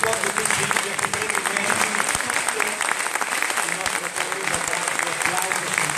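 Sustained applause from a gathered audience at a festival talk, dense and even clapping with a speaker's voice carrying over it.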